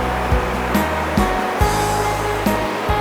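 Water rushes loudly and continuously close by, a steady flowing roar broken by occasional dull knocks.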